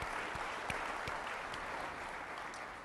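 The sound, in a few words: audience applause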